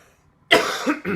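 A single harsh, close cough erupts after a moment of silence, followed by a second shorter cough.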